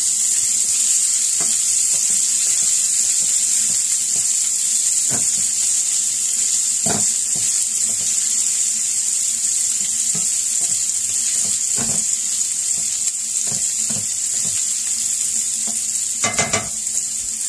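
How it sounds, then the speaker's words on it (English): Onions and chicken frying in a pan give a steady, loud sizzle, with scattered scrapes and light clinks from stirring and one louder clatter near the end. "I'm just going to cook this until the onions become a little bit translucent"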